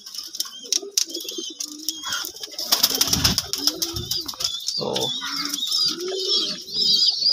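Domestic pigeons perched in a cool shaded spot coo in soft, repeated low calls at close range, with brief fluttering, scuffing and thin chirps scattered in between.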